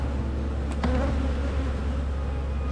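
Honey bees swarm in a steady, dense buzz as they are shaken from a nucleus box into a ten-frame hive, droning close and continuous with a few brief knocks and thumps partway through.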